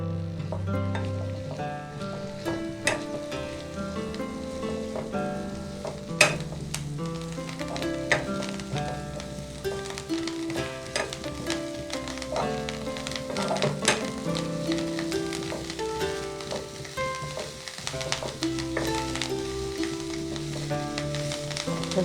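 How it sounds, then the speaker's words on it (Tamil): Chopped chandi leaves frying and being stirred in a bowl at home, a steady dense sizzle with scattered pops and clicks from stirring, close and even throughout, no talking. "இனி இதை ஒரு பவுலில் போட்டு வறுக்க போகிறோம்."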